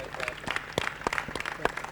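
A squash match crowd at CCI International 2019 gives scattered, uneven applause for sportsmanship, a few sharp claps standing out under an announcer's commentary.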